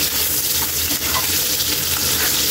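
Garlic and onions sautéing in a pan for beef mechado, a loud, close, continuous sizzle with a watery hiss and faint stirring scrapes, no talk.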